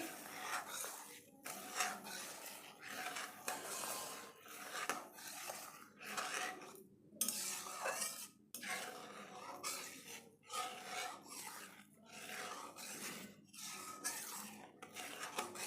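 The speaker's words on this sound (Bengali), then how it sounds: "এইভাবে দুধটাকে নাড়তে থাকবেন, দেখবেন আস্তে আস্তে ঘন হয়ে যাবে।" Milk being stirred in a pot while it thickens for semai kulfi, a continuous rough scraping and rubbing of a utensil against the pot, repeated in uneven strokes at close range.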